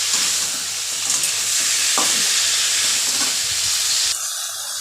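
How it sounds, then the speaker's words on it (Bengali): Crab pieces rubbed with salt and turmeric sauté in a pan, giving a loud, continuous close-up sizzle and hiss with occasional stirring scrapes. The sound shifts abruptly near the end. "এবার আমি কাঁকড়াগুলো দিয়ে দেবো।"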